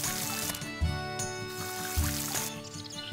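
Crops being watered in the farming game Story of Seasons: Pioneers of Olive Town, a soft pouring trickle of water repeated in short bursts over a steady background music track.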